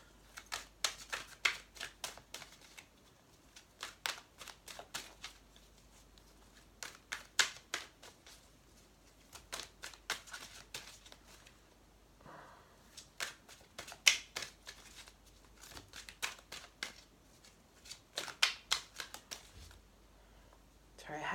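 Tarot cards are shuffled in repeated quick riffling bursts, crisp and close, with pauses between them and someone talking softly at times.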